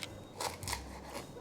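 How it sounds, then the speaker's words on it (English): A knife slices through a stalk of lemongrass with a couple of quick, crisp, fibrous cuts, close but quiet, alone without talk. "now I'm just going to take my knife and just cut it here"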